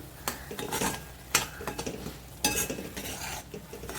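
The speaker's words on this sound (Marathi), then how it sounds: "मसाला वाटण छान तेलावर आपण परतून घेऊया" Ground masala paste for a surmai fish red gravy being sautéed in oil, with bursts of sizzling and spoon scraping against the pot in uneven strokes, close and moderately loud, no talk.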